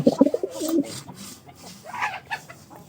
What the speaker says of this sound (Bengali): এই যে কবুতর গুলা যাচ্ছে এগুলা পোনা ফোটার পালা